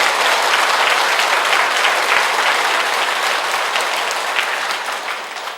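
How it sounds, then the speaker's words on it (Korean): A church audience applauding after a priest's talk, a dense steady wash of many hands clapping at once that fades slightly toward the end. "박수 한번 쳐주세요."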